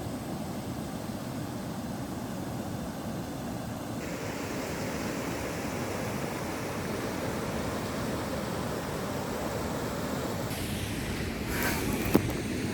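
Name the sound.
waterfall and river water rushing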